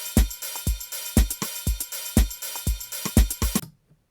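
Drum machine beat in Ableton Live's Drum Rack with kicks and ringing hi-hats, an open hi-hat sustaining over closed hi-hat hits, then stopping abruptly into silence.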